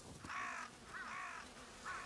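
Crows caw in the Ghost of Yotei video game, three hoarse calls at a steady spacing, faint and somewhat distant, with no other sound around them.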